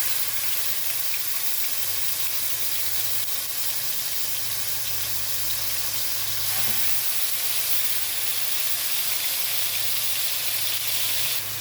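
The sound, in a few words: chicken breasts searing in hot oiled pan on stove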